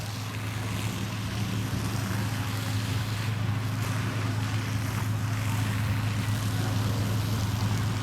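A steady rushing roar of water driven by a vintage fire engine's pump, with a low motor hum underneath, continuous and unbroken throughout, at an outdoor fire and rescue show.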